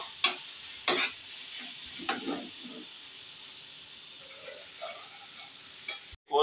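A spoon stirring a minced meat keema mixture in a pot: quiet scrapes and a few sharp clicks against the metal early on, then soft shuffling over a faint steady background hiss, with no voices.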